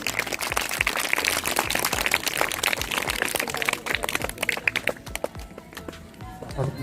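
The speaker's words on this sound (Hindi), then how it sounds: "एक बार जोरदार तालियां बच्चों" Schoolchildren applaud at a school welcome ceremony during a sweater distribution, a dense burst of many hands clapping that thins out toward the end, with voices mixed in.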